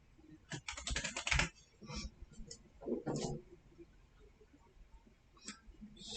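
Typing on a computer keyboard in bursts: clusters of close key clicks, a quick flurry near the start and then sparser taps with pauses between them.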